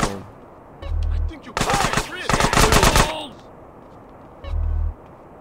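Gunfire in GTA San Andreas: a long rapid burst of automatic shots rattling for over a second, bracketed by low thuds and a couple of single cracks, loud and close.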